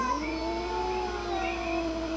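A cat meowing in long, wavering, drawn-out cries over a steady low hum, heard alone and fairly close.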